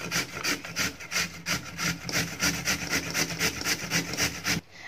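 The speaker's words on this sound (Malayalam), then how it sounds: "അപ്പോൾ ഇതാ ആ പൊട്ടാറ്റോ ഒന്ന് ഗ്രേറ്റ് ചെയ്തെടുത്തിട്ടുണ്ട്" A peeled potato is grated by hand in a home kitchen, giving a steady run of close, rhythmic rasping strokes, about three per second, that stop abruptly near the end.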